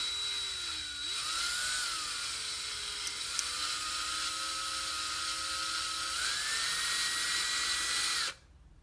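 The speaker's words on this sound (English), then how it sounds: "In this case, we're drilling." Power drill whines steadily while drilling during construction of a Case 2090 model, a close, continuous motor tone shifting in pitch a few times before cutting off abruptly near the end, with no talk.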